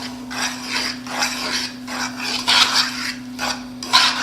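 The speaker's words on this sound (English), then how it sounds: "Use a fork to mix your meat." A fork working through raw ground meat for Salisbury steak, giving repeated wet rasping scrapes in an uneven rhythm of short strokes, close and fairly loud, over a steady low electrical hum.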